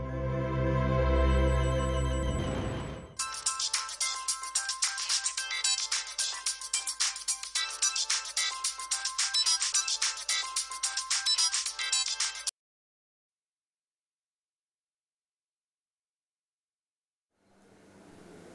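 A mobile phone ringtone plays at night for an incoming call, starting with a loud low tone, then ringing in a bright repeating pattern for several seconds. It cuts to silence, and faint sound returns at the end.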